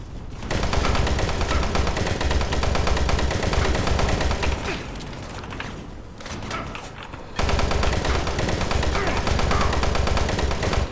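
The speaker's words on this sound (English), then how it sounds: "The chain gun is neither powerful in my hands or in theirs." Chain gun in the game Doom 3 firing in long, rapid sustained bursts, loud and dense, with a brief dip partway through before the fire resumes at full force.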